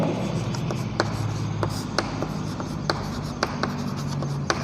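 Chalk or marker writing on a board during a school science lesson, a steady scratchy stroke sound broken by regular sharp taps, close and clear, with faint room noise.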